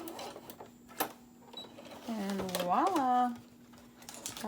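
A sewing machine stitches a seam on a boxed bottom cosmetic bag, a short mechanical run of a second or so over quiet room sound, with no talking.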